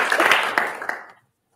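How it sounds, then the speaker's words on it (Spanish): Brief burst of applause at a press announcement on the Milky Way, a dense patter of clapping hands that fades out after about a second. "Solo traducen los aplausos"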